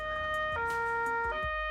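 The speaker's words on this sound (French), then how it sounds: "Ici, nous avons ajouté une commande pour mettre en marche les gyrophares et les sirènes." Police car siren wailing, a loud, close, pitched tone that rises and steps between two levels in a quick cycle, heard alone with no talk.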